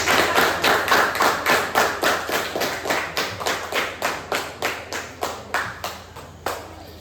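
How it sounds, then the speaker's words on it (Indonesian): A primary school class in Indonesia claps for one student group, with steady rhythmic claps in near-unison, about two or three per second, close and fairly loud and slowly tapering. "Beri tepuk tangan untuk kelompok 3."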